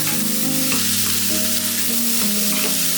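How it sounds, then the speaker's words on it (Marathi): Chopped spiny gourd (kantoli) sautéing in hot oil in a pan with tomato, giving a loud, steady sizzle and crackle with a few stirring scrapes, close by and without voices. "कंटोळी पण छान परतून घ्या"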